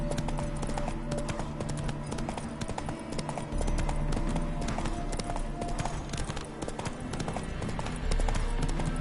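Steady clip-clop of a horse's hooves pulling a coach in The Witcher 3, a continuous rhythmic trot over a dense bed of game ambience, with no talking.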